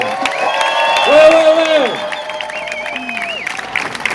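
A crowd gives an ovation at a Nuit Debout assembly in Brussels, with sustained applause, cheering and shouting that peaks early and then settles into steady clapping, with voices mixed in.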